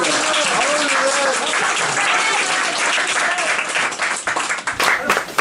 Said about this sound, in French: On peut l'applaudir bien fort, Josette